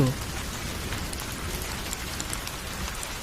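Heavy rain pours down outside, a steady, dense hiss of drops striking surfaces that holds at an even level from start to finish.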